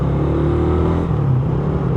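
A carbureted Suzuki Raider 150 motorcycle engine runs warm with a noisy head, a steady loud idle drone and rumble, close and constant, with no voices.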